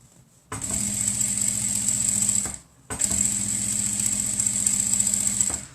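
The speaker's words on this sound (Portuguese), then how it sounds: "vou aumentar, então, um pouquinho meu ponto, né, e vou fazer uma costurinha que já vai fechar" A sewing machine stitches a washable cotton face mask in two steady, close motorized runs, with a short pause between them and a high whine over a low mechanical hum.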